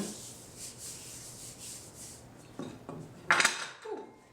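A floured rolling pin rolls homemade pasta dough on a work surface, making soft rhythmic rubbing strokes. Near the end come a few sharper knocks and scrapes, close and without talk.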